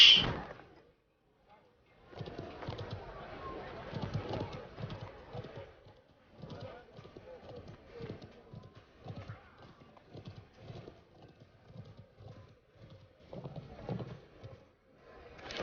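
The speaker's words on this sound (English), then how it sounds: "Here's my horse." A horse in the Conqueror's Blade video game trots with steady, rhythmic clip-clopping hooves, moderately loud and near, with a brief neigh and speech in places.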